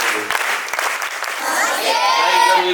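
Audience at a school event clapping to welcome officials, a short burst of crowd applause with children's voices mixed in, fading into ongoing murmur.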